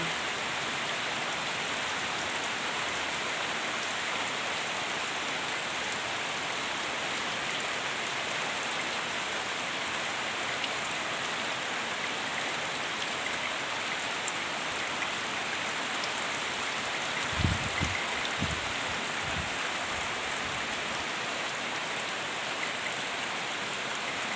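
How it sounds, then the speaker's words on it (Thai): Steady rain pours onto surfaces in the rainy season, a constant even hiss with patter throughout and a few low thumps near the end. "บรรยากาศช่วงฝนตกเนาะค่ะ"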